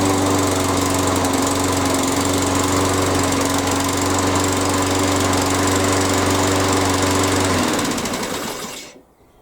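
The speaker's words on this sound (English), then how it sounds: "start the lawnmower." A Hyundai HYM480SPR self-propelled roller petrol lawnmower engine runs loud and steady with a constant droning hum, then cuts out and winds down near the end.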